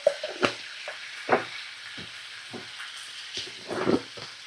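Green chilli frying in a pan for a vegetarian dish, giving quiet intermittent sizzles and stirring scrapes with short louder bursts between calm stretches, no talking.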